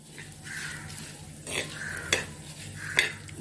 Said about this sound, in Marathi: आता त्यात मी घेतलेल्या सुक्या मिरच्या फोडून टाकते, चार 5 सुक्या मिरच्या घेतल्या,